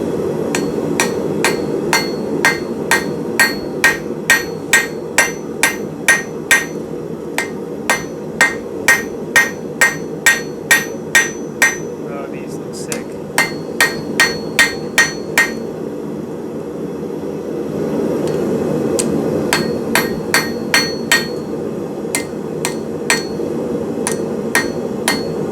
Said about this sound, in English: I'm gonna take these little taper corners, and I'm gonna hammer them flat